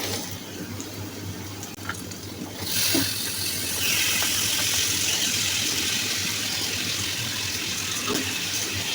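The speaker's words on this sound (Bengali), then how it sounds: "এখন আমি মশলার মধ্যে বটটা দিয়ে দিচ্ছি।" Washed beef tripe drops into a pan of cooked masala: after a quieter start, a sudden loud, steady sizzle and hiss erupts and carries on to the end.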